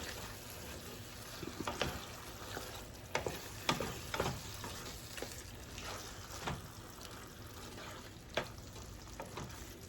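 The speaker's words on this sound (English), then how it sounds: "now I'm going to turn this down and let it just simmer for about 20 minutes" Tex-Mex casserole mixture with onions simmering in a pan on medium-low heat, a steady soft sizzle and bubbling with scattered louder pops and stirring clinks, no talking.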